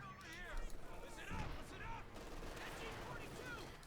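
Machine gun fire rattling away during a Company of Heroes 2 match, quick bursts sitting under a commentator's steady voice along with other battle noise.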